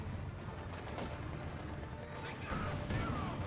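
Machine gun fire and battle noise in Company of Heroes 2, a multiplayer match with Browning and MG34 guns, a dense continuous rattle of shots at moderate distance with some crashes near the end.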